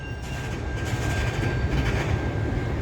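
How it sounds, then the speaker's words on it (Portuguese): A train rumbles past behind a large railway station, a steady low-frequency roar with faint rail clatter and a thin high whine that hold evenly for about three seconds, with no voices over it. "Trenzão passando lá atrás, tá vendo?"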